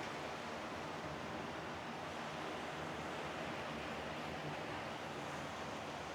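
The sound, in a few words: waves coming in by the water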